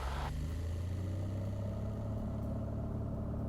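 A Piper Cherokee's engine at full power on the takeoff roll gives a loud, steady, low droning hum with a constant pitch, heard from inside the cockpit.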